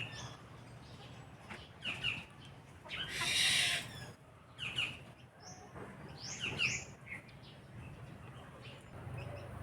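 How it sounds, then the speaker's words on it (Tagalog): Birds chirp in a mango tree on a hot day, giving faint, scattered calls over steady outdoor background noise, with one louder, brighter burst partway through. "Maingay yung mga ibon na nandyan sa may mangga."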